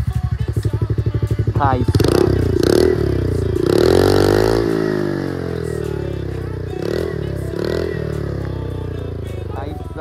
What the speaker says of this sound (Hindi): यहाँ पे सुन सकते हैं स्टॉक एग्जॉस्ट का एंटोर्क का साउंड कुछ इस तरह है